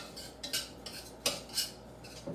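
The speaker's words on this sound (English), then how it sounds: "You want to hear that rice sizzle so that we know it's cooking." Rice frying in a pan with oil, onion and salt on a low back burner for Brazilian shrimp with coconut, giving a steady close hiss with brief louder crackling bursts.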